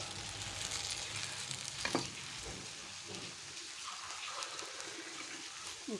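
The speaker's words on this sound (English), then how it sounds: "See, we can make out in middle, color will be changed here and there." Green gram pancake (pesarattu) frying in a pan gives a steady, close sizzle with soft crackle throughout, a few brief utensil scrapes standing out near the middle, and no talking.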